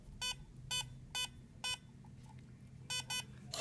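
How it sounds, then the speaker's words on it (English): A SecuRam electronic safe lock gives a series of short electronic beeps as it switches to analog mode: a group of four evenly spaced beeps, a pause, then two more close together, clear over a low background hum. "Once the beeps happen, that's our indication that the lock is now in analog mode."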